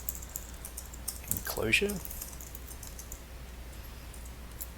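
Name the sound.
typing on a computer keyboard while coding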